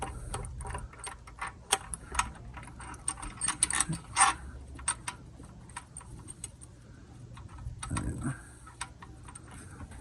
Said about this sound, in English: So we're gonna start torquing this one 18 foot-pounds, and we're gonna go all around torquing 18 foot-pounds